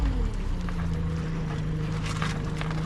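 A lobster and crab fishing boat's engine drops from a higher drone to a lower idle early on, then holds a steady low hum alongside wind and splashy noise at sea, with no talking.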